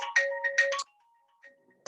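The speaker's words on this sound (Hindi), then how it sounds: "क्लास के बीच में फोन आते हैं," A mobile phone ringtone goes off during a classroom lecture, a short melodic electronic jingle of several bright notes followed by softer trailing tones and a quiet gap before it starts again.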